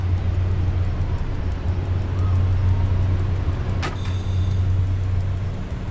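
A Polish PKP train in the SimRail simulator brakes under a steady low rumble of running gear, with a faint whine and a sharp hiss partway through, and no talk over it.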